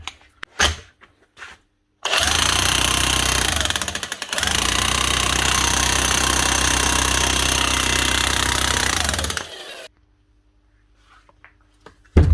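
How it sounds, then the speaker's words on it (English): A repaired corded hammer drill, likely an older Makita, Dewalt or Bosch, runs in hammer mode in two long, loud, steady bursts with a brief gap between them, then cuts off into quiet. "Just give her a quick test to make sure she's still hammering correctly."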